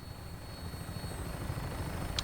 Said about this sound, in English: And there's another one. Another chopper.